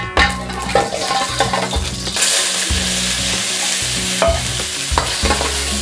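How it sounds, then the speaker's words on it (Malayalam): Chicken sautéing in a hot pan for noodles gives a loud, bright sizzle with rhythmic scraping and clanking of a spatula stirring the pieces, close up and continuous without speech. "നമ്മുടെ ചിക്കൻ സോട്ടേ ചെയ്യാം."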